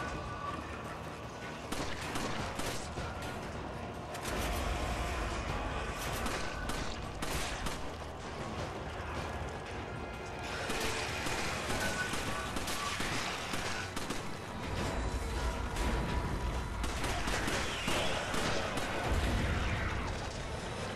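Gunfire in the video game Resident Evil 5, sustained bursts of shots and booms over about twenty seconds, fairly quiet overall, with brief intermittent talk.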